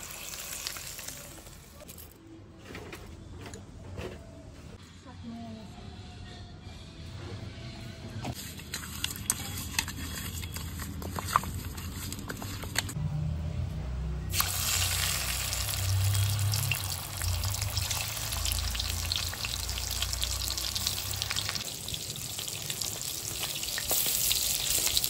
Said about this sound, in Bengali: মাছ ভাজা হয়ে গেছে, তুলে নিচ্ছি।